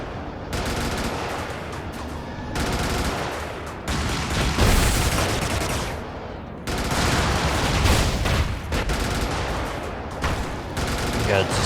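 Sustained bursts of automatic gunfire from the mech combat video game Brigador, loud and dense in several long stretches separated by brief gaps.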